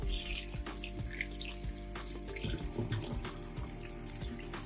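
Running tap water splashes steadily into a sink as vegetables are washed one by one for braised pork belly, with small clatters and knocks of produce and bowls, close and continuous with no talk.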